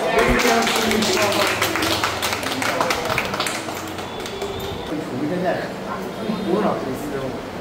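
At a home song-launch gathering, a group claps for Amit, with quick scattered hand claps strongest at the start and thinning out, while people keep talking over them.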